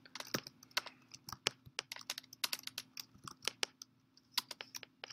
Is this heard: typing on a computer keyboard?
yes